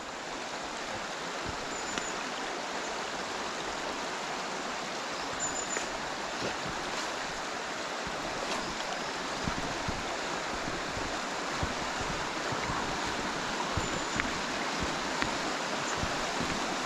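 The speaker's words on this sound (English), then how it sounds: "It's very therapeutic listening to water running." Fast-moving burn water at Haltwhistle rushes over rocks in a continuous, even roar of close churning flow, with faint higher splashes scattered through and no talking.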